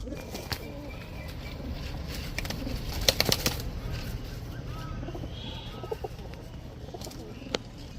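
Low, soft coos from Giribaz racing pigeons murmur in the background among scattered rustles and wing flutters, fairly faint and steady throughout.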